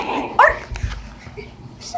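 A pet dog gives a sharp bark followed by softer whimpering yips, close and fairly loud amid indoor room noise.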